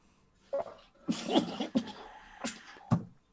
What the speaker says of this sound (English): even he coughed on that word